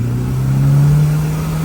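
A tuned motorcycle engine holds a steady, loud rev with a slowly rising drone as it shifts into third gear during a top speed run, close and continuous with no talking.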